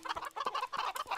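Chickens in the video game Minecraft clucking in short, quick bursts, fairly close and alone with no talking.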